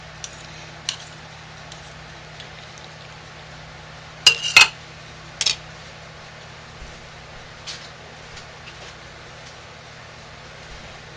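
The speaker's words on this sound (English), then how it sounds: "let's clean our spoon" Spoon being cleaned while making hot process lye soap, with a quiet background hum broken by a couple of sharp metallic clinks and a few light taps.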